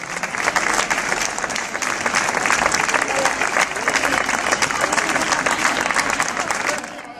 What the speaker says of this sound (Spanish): Venga, ese aplauso para ella,